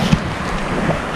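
Strong wind buffets the microphone at a windy shore, a steady broadband roar with low rumbling gusts throughout, close and loud with no talk.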